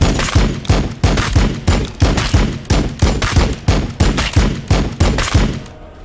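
Gunfire in Warhammer 40K: Battlesector thumps out in a loud, evenly spaced series of heavy shots, about two or three per second, steady throughout and free of talk.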